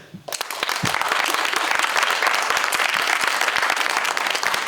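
Audience at an improv theatre festival show applauds steadily after a brief quiet start, a dense, sustained wash of clapping that holds loud throughout.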